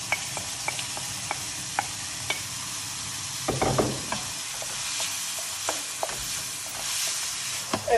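Porcini mushrooms and peas cook in a pan over a high flame, sizzling steadily and close by, with regular spoon taps and a brief, louder stirring scrape near the middle.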